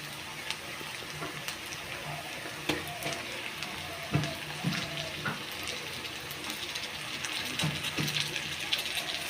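Chicken meat frying with turmeric and spices in a pan, a steady close sizzle with occasional stirring clicks and scrapes throughout, no talk.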